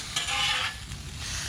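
Food sizzles on a 17-inch Blackstone griddle after being flipped, a steady hiss of frying with a brief scrape at the start, moderately loud and close.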